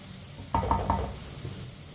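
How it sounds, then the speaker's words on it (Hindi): Peas frying in a pan while a spoon stirs them, giving a soft sizzle with a few brief scraping stirs close by and no talking. "ऐसे ही चम्मच चलाते हुए फ्राई करना है मटरों को"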